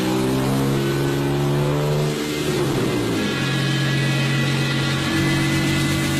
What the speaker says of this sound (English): Using a machine called a dynamometer, Ron's team put the Scorpion through its paces.